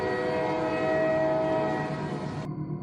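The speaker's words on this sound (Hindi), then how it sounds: "ट्रेन फिर से एक झटके के साथ आगे बढ़ती है" Train sound effect in a narrated Hindi horror story: a steady, loud rumbling run of railway cars with a sustained horn-like tone that cuts off sharply near the end, no voices.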